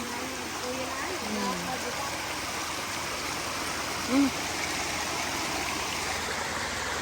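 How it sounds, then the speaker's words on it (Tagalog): Strong stream water rushing in the countryside during summer, a steady, loud broadband roar throughout with voices talking briefly over it. "Lakas ng tubig."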